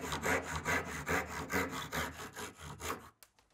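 A hand saw cuts through wood for a cat carving in steady back-and-forth strokes, about a dozen rhythmic rasps, close by, ending with a few faint knocks.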